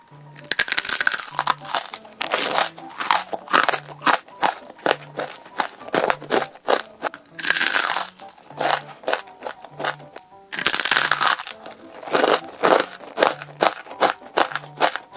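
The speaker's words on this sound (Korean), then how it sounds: "이것도 무조건 바삭바삭 맛있을 것 같은데요?" Repeated crisp crunching from someone biting and chewing vegetable tempura, loud and close, in steady bursts with short pauses between bites.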